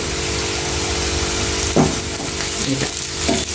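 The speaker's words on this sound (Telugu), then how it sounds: "మంచిగా ఇట్లా ఫ్రై చేసుకోవాలి ఉల్లిపాయలు" Onions frying in a pan with oil give a steady, close sizzle, broken by a few scraping stirs of the spoon, with no one speaking.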